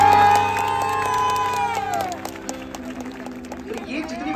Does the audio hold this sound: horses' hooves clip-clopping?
no